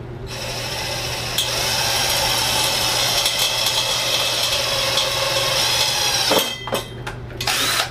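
A power drill whirs steadily and loudly for several seconds, then stops and restarts in short bursts near the end.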